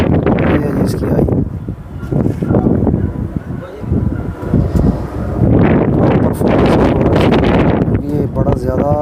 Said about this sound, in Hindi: आवाज़ सुन रहे होंगे हवा की, इतनी तेज़ हवा है।